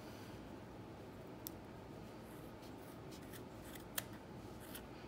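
Scissors trimming a yarn pom-pom, quiet close snips scattered over a faint steady background hiss, with a couple of slightly louder cuts and no talking.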